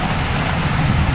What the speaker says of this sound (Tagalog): Sensya na, malakas ang ulan.